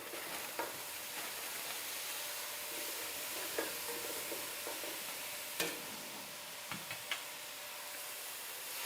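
Broccoli added to a soup pot sizzling steadily in the hot pan, with occasional spoon knocks and clicks from stirring, close and fairly quiet with no talking.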